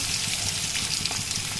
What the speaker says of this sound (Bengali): এখন পেঁয়াজ আর রসুনটা ভেজে নেওয়া হচ্ছে